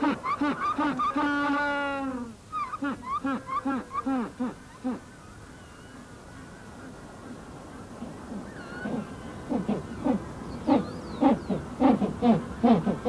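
Male animals in a large breeding colony give hoarse, honking calls greeting newly arrived females, a dense chorus of rough repeated cries, loud and close, with overlapping calls throughout.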